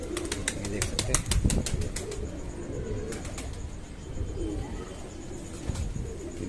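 A female pigeon in moult, handled close up, gives soft low coos and a quick burst of wing flapping, with steady murmuring talk running underneath throughout.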